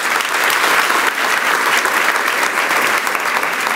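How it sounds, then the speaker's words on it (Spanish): A church congregation at a Spanish-language evening service applauds, producing dense, steady clapping from many hands that fills the whole stretch loudly, with no voices over it. "Le damos un aplauso de protección a Jesús."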